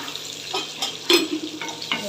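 Garlic and onion frying in a pan for brinjal kara kuzhambu, a close sizzle broken by several scraping stirs of a spoon, one louder clack in the middle.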